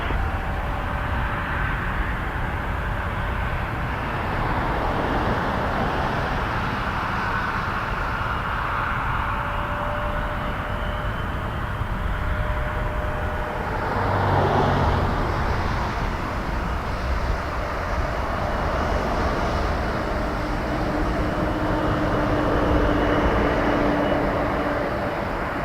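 Airplane engines at Toronto Pearson airport roaring steadily for nearly half a minute, a broad continuous rumble that swells slightly near the middle and again toward the end, with no talk.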